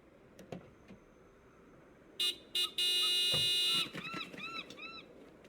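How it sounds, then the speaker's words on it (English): Two brief horn blasts, then a long sustained honk, followed by warbling electronic tones; synthetic game sounds from Broken Sword 5: The Serpent's Curse with light background noise. "Nico, could you honk the horn again?"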